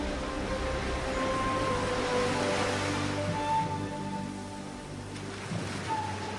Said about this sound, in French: des morceaux de bois venus d'horizons lointains sont rejetés sur le rivage par les vagues.